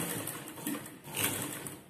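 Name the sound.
sewing machine stitching the edge of a lungi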